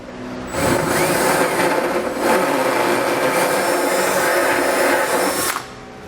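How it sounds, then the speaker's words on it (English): A high-pitched die grinder whines continuously at close range for several seconds, enlarging an access hole in a 2019 Subaru Forester for a trailer hitch, its pitch wavering slightly as it bites into metal, then cuts off. "I'm going to use a die grinder to do that"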